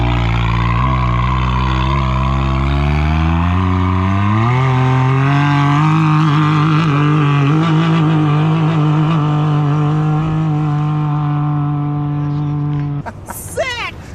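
A car with an RPM sport muffler and exhaust valve accelerates hard down a straightaway, its loud engine note climbing through the gears and holding at high revs before the sound cuts off abruptly.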